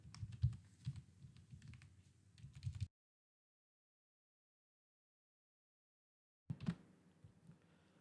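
Code is typed on a computer keyboard in quick, irregular bursts of close clicking keystrokes that stop in a gap of total silence, then resume briefly.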